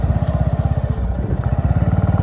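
A Bajaj Avenger 220 motorcycle engine thumps in a steady, fast, low rhythmic pulse, loud and close while riding.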